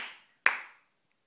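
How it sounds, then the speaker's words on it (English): Two separate hand claps, sharp and close, with a short pause between them and a brief echo after each. "clap your hands."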